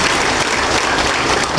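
Audience applause at a military closing ceremony for a US–Philippines Balikatan mobilization exercise, a dense, steady burst of clapping from a large crowd that stays loud and even throughout.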